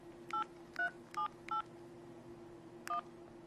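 Keypad tones from a Verizon Escapade phone as a number is entered, five short distinct beeps, four in quick succession and one after a pause, clear over a faint steady hum.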